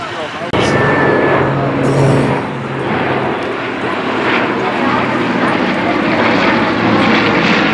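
Aircraft engines roar at the EAA AirVenture Oshkosh 2018 airshow, where twin-engine and single-engine planes fly. A loud, steady, close drone holds for the whole stretch, with a sharp onset near the start and slight surges.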